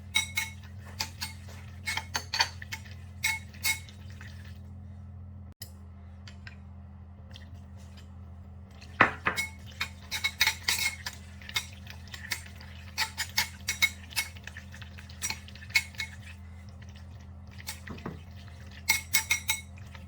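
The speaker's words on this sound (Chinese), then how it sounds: "搅拌使肉丝充分吸收料汁" Shredded pork being stirred with dark soy sauce, cooking wine and scallion-ginger water in a bowl, giving irregular light clinks and scrapes of utensil against the dish over a steady low hum, with no talk.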